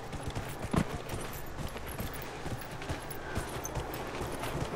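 Horse hooves clip-clop steadily in a fantasy video game, a soft continuous run of hoof beats over a low ambient wash with no talking.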